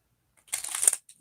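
A deck of playing cards being shuffled during a tarot reading, a single brief riffling burst of about half a second, fairly close and quiet, with no talk over it.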